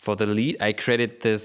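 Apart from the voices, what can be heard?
None of the usual background noises is heard.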